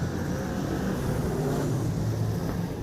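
Steady engine roar of Super Sedan racing cars at Lismore Speedway, a continuous loud drone with no breaks, heard from trackside.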